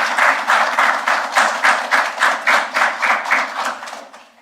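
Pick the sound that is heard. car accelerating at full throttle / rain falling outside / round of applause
round of applause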